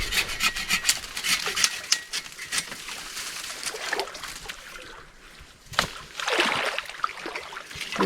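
Hand saw cutting through alder wood at a camp, a steady run of rasping strokes with short pauses, close and fairly loud, no talking.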